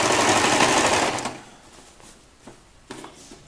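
Sewing machine stitching a gathered child's skirt, a loud rapid run of about a second that stops abruptly, followed by a few faint clicks and handling knocks.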